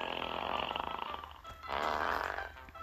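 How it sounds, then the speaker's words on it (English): A crude fart nuke sound effect in an online video game plays as a long, loud, sputtering rumble in two swelling waves, close and harsh, with no talk over it. "Oh my god, a fart nuke?"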